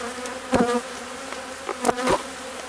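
Honey bees buzzing around a strong hive, a steady close drone with several louder passes as individual bees fly near, no talking.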